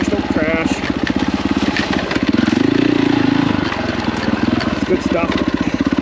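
A KTM 450 dirt bike on a tight single track, its engine chugging loudly and close with a steady rhythmic thump and a brief rev, with a person talking over it.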